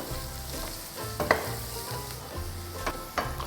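Pav bhaji masala fries in a hot pan, a steady close sizzle broken by a few sharp clinks and scrapes as it is stirred.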